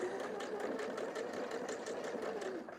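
A sewing machine runs steadily, stitching around the edge of a scrap-fabric envelope pouch with a continuous, close, rapid mechanical whir and rattle that fades slightly at the end.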